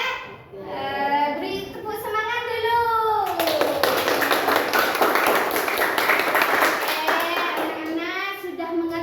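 Classroom of children giving a patterned encouragement clap: several seconds of brisk, loud group clapping in the middle, with children's voices chanting and talking before, during and after.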